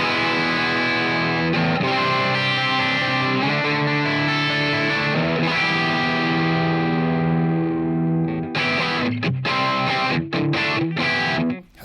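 Heavily distorted electric guitar chords ring out loud and sustained, then break into short choppy strums before cutting off.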